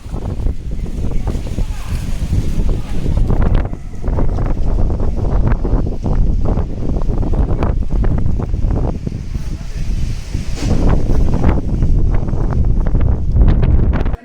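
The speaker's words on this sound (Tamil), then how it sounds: "சூறாவளி காற்று வீசியதால் புழுதி கிளம்பியது" Strong cyclonic storm winds raising dust ahead of heavy rain roar and buffet the microphone in a continuous, loud rush, with repeated sharper gusts breaking through.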